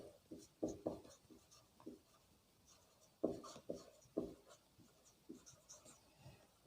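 Pen writing on paper in short, uneven strokes and scratches, close and fairly soft, with brief pauses between words and no talking.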